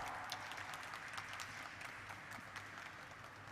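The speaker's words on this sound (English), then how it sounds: "a round of applause" Audience applause at a stock-exchange listing ceremony for JNK India Limited, a steady, moderately faint wash of many hands clapping that continues evenly throughout, with no voices over it.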